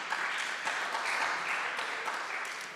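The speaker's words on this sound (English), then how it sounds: "This should be applauded" A conference audience applauds, a faint, even wash of clapping from a crowd heard at a distance, steady throughout with slight swells.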